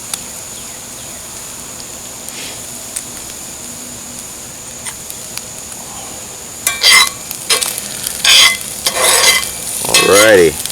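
Potatoes sizzling and frying in a pan at a campsite, with a quiet steady sizzle that gives way to loud scraping and clattering stirring from a utensil near the end.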